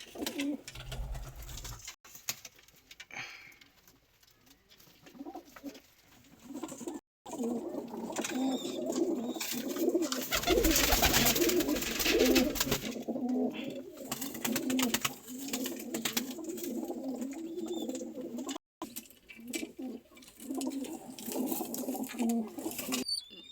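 Pigeons coo in soft, repeated throaty calls, close and continuous, with some shuffling and rustling around them.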